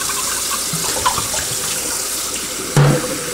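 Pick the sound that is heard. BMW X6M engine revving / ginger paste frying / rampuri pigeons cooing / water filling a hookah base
water filling a hookah base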